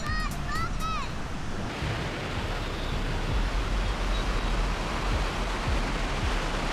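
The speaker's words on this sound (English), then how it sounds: "The waves aren't very calm." Rough ocean waves break steadily on a long, wide beach in Chennai, India, at night, making a continuous loud roar of surf with a few faint high chirps near the start.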